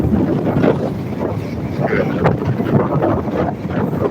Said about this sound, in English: Oh, the wind's really picking up.